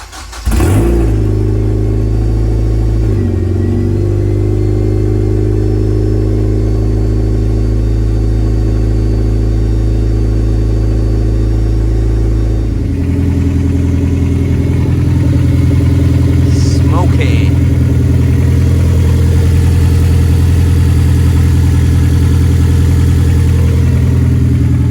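A Honda Civic EP3 Type R engine, running with only a 4-to-1 downpipe, no catalytic converter or exhaust, cranks and catches, then idles loud and raw with a harsh rasp, occasional revving blips and a tone shift partway through.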